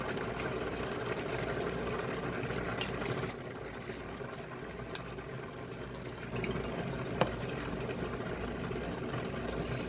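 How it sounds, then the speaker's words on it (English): A pot of water with pasta in it boils steadily with a constant bubbling rumble, with a few light clinks and taps over it. "I already have my noodles in the pot boiling."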